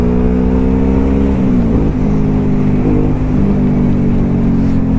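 Hypermotard-style supermoto motorcycle revving hard while being ridden, a loud, continuous engine roar with rising and falling pitch as the rider works the throttle through gear changes.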